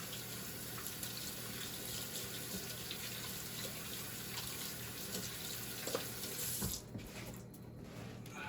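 Tap water runs steadily into a sink while hands are washed, a faint continuous splashing hiss that cuts off near the end.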